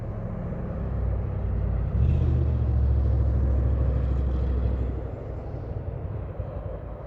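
A steady broadband roar of highway traffic rumbles continuously, swelling slightly mid-way then easing, heard at a distance with no voices.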